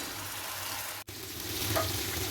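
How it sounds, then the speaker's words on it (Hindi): Chicken pieces for butter chicken frying in a pan, a steady close sizzle with a brief gap about a second in, then the frying resumes slightly louder. "इसको हम करेंगे फ्राई, और उस वक्त तक फ्राई करेंगे जब तक हमारा चिकन प्रॉपरली जो है सेट नहीं हो जाता"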